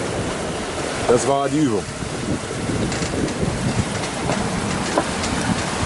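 Strong gusts of 25 to 30 knots roar across a sailing yacht on an Atlantic crossing amid huge waves, a loud continuous wash of wind and sea with one brief voice speaking over it.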